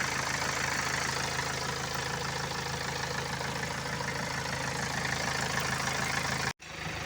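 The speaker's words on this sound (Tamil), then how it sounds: "வண்டி ஓடிட்டு இருக்குது. த்ரீ ஹவர்ஸாக வண்டி ஓடுது." A BMW 320d diesel engine idles after a coolant change, a steady low rumble with an even mechanical drone close by and no talk, briefly cut off near the end.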